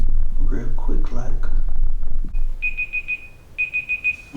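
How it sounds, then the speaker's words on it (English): An alarm clock beeps in quick, loud, high electronic pulse groups, sounding right after a person finishes talking nearby. "my alarm is going off now"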